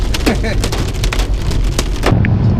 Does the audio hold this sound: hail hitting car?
yes